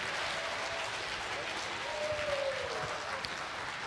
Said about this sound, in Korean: 여러분 큰 박수로 이상훈 지휘자님을 모시도록 하겠습니다.